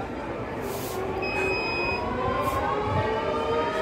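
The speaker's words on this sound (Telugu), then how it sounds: "సైరన్ మా కాలేజ్ అయిపోయినప్పుడు స్టార్ట్ అయినప్పుడు వస్తుంది." A college siren sounds as a faint steady tone over a dense, loud background of crowd and ambient noise, lasting through the short stretch.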